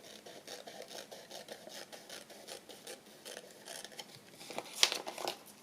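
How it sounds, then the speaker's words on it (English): Scissors trimming a thin white printed edge off a sheet of paper, a soft steady rasping snip run by close, quiet cuts, ending in a slightly louder pair of snips. "so I'm just going to trim that off"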